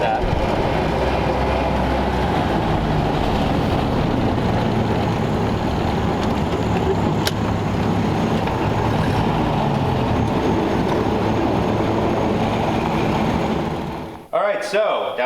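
Loud, continuous engine and road rumble from a 1932 Ford Roadster on a test drive, a steady drone with wind noise that runs nearly the whole time before cutting off abruptly near the end.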